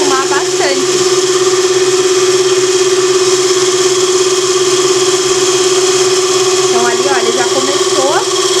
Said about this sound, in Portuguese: Já começou a fazer espuma, ele quase enche a bacia da batedeira.